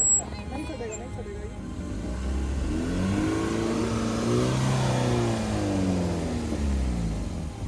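A car engine strains and revs on a rough, broken village road, a steady mid-range drone rising in effort through the middle and staying close and loud throughout, with a voice speaking over it.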